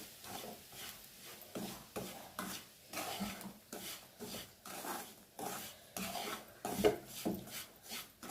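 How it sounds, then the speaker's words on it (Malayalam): Semolina (rava) is stirred slowly in a pan for Udupi upma, making soft, gritty scrapes that repeat in an uneven rhythm at low volume, with no one speaking. "റവ ചേർത്തിട്ട് പതുക്കെ ഇങ്ങനെ ഇളക്കി കൊടുക്കാം."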